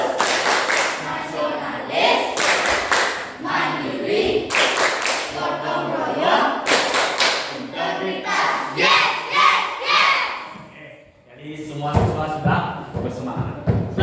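Classroom of students performing a rhythmic clapping chant, bursts of unison claps alternating with shouted chanted words, led by a teacher's voice, loud and close throughout.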